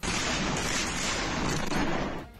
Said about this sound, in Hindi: रात के अंधेरे में जबरदस्त धमाके होते नजर आए।